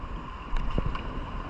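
Strong wind buffeting the microphone at sea during ultralight fishing off the Philippines, a constant rushing roar with a couple of brief knocks, no talk.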